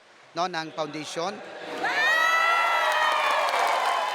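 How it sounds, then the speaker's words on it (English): Residents at a disaster relief aid distribution break into loud, sustained cheering and shouting as a crowd, following a few seconds of a person talking. "The residents cheer as they were nicely surprised."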